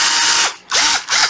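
A National cordless drill/driver spinning in reverse, heard as three bursts of loud, close whirring with a ratcheting edge. Each burst revs up, holds and drops away, with short gaps between them and no talk.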